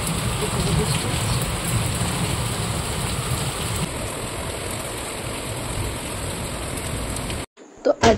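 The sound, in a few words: rain falling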